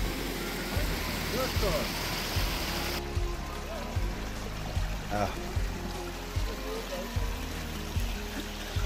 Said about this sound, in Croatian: Evo, došli smo do jednog od potoka koji čini Hajdučki potok